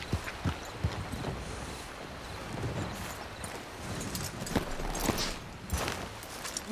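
Steady clip-clop of horse hooves on hard ground in Red Dead Redemption 2, a continuous walking rhythm at moderate distance, with faint ambient background.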